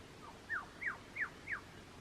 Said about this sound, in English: You could hear lots of little finches, I guess, and yeah, all around.